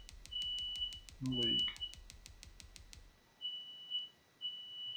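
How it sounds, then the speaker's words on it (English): A smoke alarm beeps in rapid regular pulses for about three seconds, then gives a few longer high tones, while someone talks briefly over it. "my fire alarm is randomly going off"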